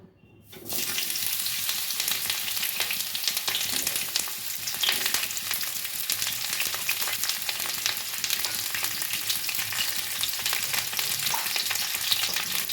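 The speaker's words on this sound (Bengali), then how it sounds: "প্রথমে আমি ক্যাপসিকামগুলো একটু হালকা নেড়ে নেবো" Capsicum sizzles and fries in hot mustard oil in a wok, a loud, continuous crackling hiss that starts abruptly after a brief quiet moment and carries on with light stirring.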